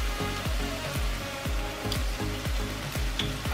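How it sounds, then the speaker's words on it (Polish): Chrust, thin angel wings pastry dough, frying in hot oil to a golden colour, giving a steady broadband sizzle and bubbling with repeated soft low thumps about every half second, close up and with no talking. "Ma on usmażyć się na ładny, złoty kolor."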